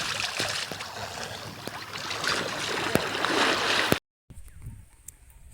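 A forest river near Bhimkund in Similipal rushes and splashes steadily at close range, with a brief drop to quieter flowing water near the end.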